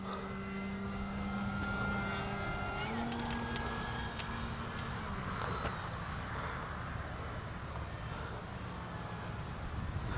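An FMS 1700mm PA-18 Super Cub RC plane at full throttle, a steady propeller and motor drone that stays loud for the whole stretch, with a faint pitch shift partway through and outdoor field noise.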